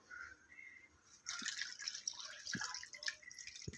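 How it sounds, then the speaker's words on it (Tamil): Water poured into a pot of curd for ragi porridge (ragi koozh) in a home kitchen: a soft, uneven splashing and trickling that starts partway through and continues close by, with no talking. "இப்போ தயிர் ஊற்றிட்டு தண்ணி ஊற்றிடலாம்."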